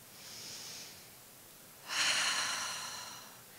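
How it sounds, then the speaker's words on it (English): A roomful of listeners at an Ignite Denver talk takes a deep breath together, a soft airy inhale followed by a louder, longer collective exhale. "so take a deep breath with me"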